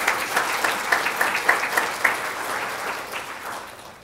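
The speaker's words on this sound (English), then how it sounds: "please have a round of applause for both of our local papers" An audience at a chamber of commerce annual meeting applauds for two local newspapers, steady clapping with a few sharper claps near the front that gradually thins and fades toward the end.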